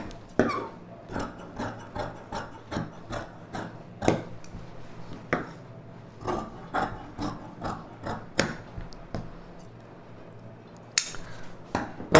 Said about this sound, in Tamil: இப்போ இதுலேருந்து ஸ்ட்ரைட்டாக கட் பண்ணிக்கலாம்.